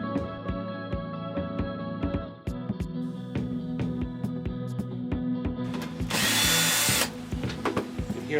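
A power drill drives 1¼-inch drywall screws while assembling a tomato cage in a cramped shed, its close motor whine running steadily with sharp clicks and a louder burst near the end.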